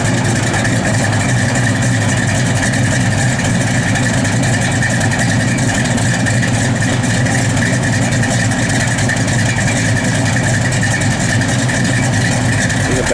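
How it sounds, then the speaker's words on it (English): A 1970 Dodge Challenger SE's engine idles steadily and loudly up close, a continuous low rumble that never changes pace. "I like the way this car sounds in the back."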